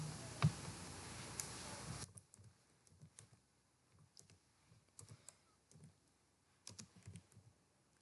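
Typing on a computer keyboard while entering a contact-info line in a programming assignment: scattered light keystroke clicks in short bursts, fairly close and quiet, alone after a brief stretch of louder noise at the start.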